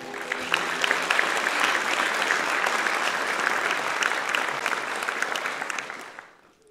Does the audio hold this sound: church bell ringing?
no